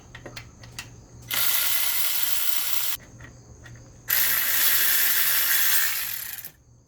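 A hand ratchet loosens 14 mm bolts during removal of a Toyota 4AGE engine from an MR2. Two long bursts of rapid clicking stand out against quieter faint clicks and taps, each burst lasting over a second before stopping.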